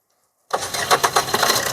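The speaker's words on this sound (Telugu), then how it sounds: "చూడండి, సింగిల్ సెల్ఫ్లో స్టార్ట్ అవుతుంది" A used car's engine cranks and catches on a single press of the self-starter after a silent pause, then revs with a few loud rhythmic surges before settling into a steady idle, close up.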